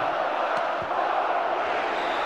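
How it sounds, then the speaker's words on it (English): Stadium football crowd at a Barcelona versus Hapoel Tel Aviv match roaring in a broad, sustained cheer, distant and continuous without clear talk. "he took the applause of the crowd"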